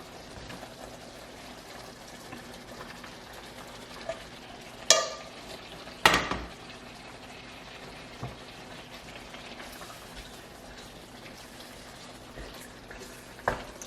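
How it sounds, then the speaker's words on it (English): Beef is stirred into a black pepper sauce in a pan, with a constant low simmering bubble and a few sharp utensil clanks against the pan. "So now we're just gonna stir the meat in there so we can get all that good seasoning on the meat"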